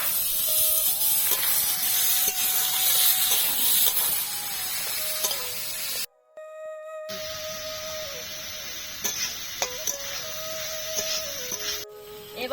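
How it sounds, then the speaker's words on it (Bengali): Carrot, capsicum, onion and tomato frying in a pan for spicy suji give a steady hiss and sizzle, briefly cut off midway before resuming, with faint tonal beeps over the frying. "সবগুলো ভালো করে ভেজে নেব।"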